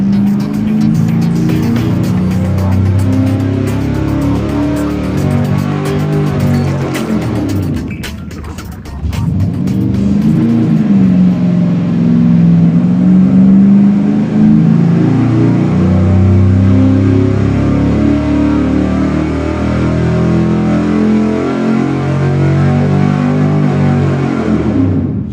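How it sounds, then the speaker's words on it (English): A small block V8 engine screams loud and continuous through a dyno pull, steady roar rising in pitch, briefly dropping off partway, then climbing again to a sustained high-rpm wail. "looking at the average of the last 3 dyno pulls, which basically were identical"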